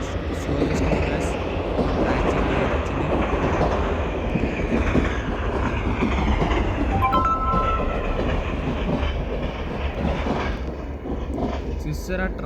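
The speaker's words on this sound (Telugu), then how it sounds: "చూసారా ట్రైన్ అయితే ఎక్సలెంట్గా రొటేట్ అయింది." A train runs in the Indian Train Simulator mobile game, approaching Vijayawada station, with a continuous rolling rumble and faint rhythmic wheel clatter that stay steady throughout.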